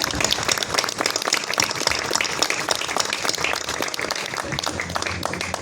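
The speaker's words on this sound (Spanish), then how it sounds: "yo quiero que les demos un aplauso grande" Audience at a community reflection gathering in Colonia Proletaria Rubén Jaramillo breaking into sustained applause: many hands clapping in a busy, steady roar, moderately distant, with faint crowd murmur beneath.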